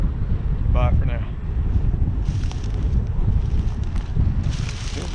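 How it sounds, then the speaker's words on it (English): Gusty outdoor wind buffets the microphone with a steady low rumble and rising bursts on a cold, windy day, while a person speaks briefly near the start. "It done got really windy and really chilly."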